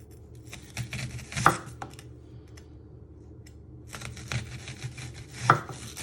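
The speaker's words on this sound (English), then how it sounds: "And you're just slicing through." A kitchen knife slices an onion into thick rings on a chopping board, a few separate crisp cuts spaced apart, near and fairly quiet, with no talking.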